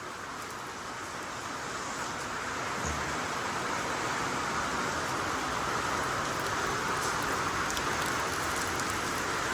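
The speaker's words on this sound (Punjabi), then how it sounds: "ਬਾਰਿਸ਼ ਦੀ ਬਾਜ ਆ ਰਹੀ ਆ ਦੇਖੋ ਤੁਸੀਂ" Heavy rain pours down steadily in Punjab, a dense, even hiss that builds slightly and continues without pause, with no voices.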